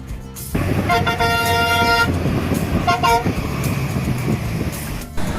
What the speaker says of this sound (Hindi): हमारी गाड़ी फाइनली खुल जाती है